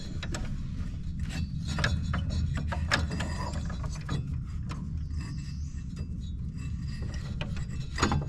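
A replacement belt is worked around a pulley on a Cub Cadet mower, giving close mechanical scraping, rattling and clicking in irregular bursts.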